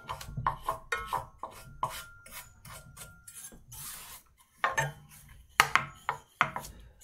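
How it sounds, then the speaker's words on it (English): A horsehair brush scrubs dust off a metal bracket coated in textured paint, giving close, dry, rasping strokes in irregular bursts with short pauses between them. "a horsehair's brush will get the dust off real easy"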